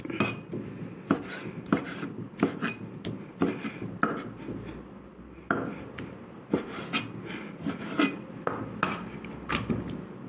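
A knife chops meat into bite-sized pieces on a cutting board for a spicy Thai soft-bone soup, sharp repeated knocks in uneven bursts with short pauses, close and fairly loud, no talking.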